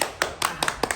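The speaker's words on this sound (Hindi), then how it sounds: "ताली मारियो" A few sharp hand claps, about six in quick, slightly uneven succession, close and fairly loud over a quiet background in a village comedy scene.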